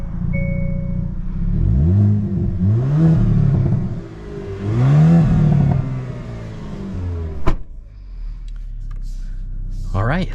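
A 2022 Hyundai Kona N accelerates on a road in rising and falling engine revs through repeated gear changes, loud and close, with a sharp thump near the end and speech over it.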